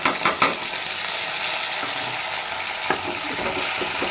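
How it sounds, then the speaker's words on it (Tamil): Ground mint paste sautés in a pan for pudina rice with a steady close sizzle, while a spoon clinks and scrapes against the pan in a few sharp strokes near the start. "ஒரு 2 நிமிஷம் வதக்கினா போதும்."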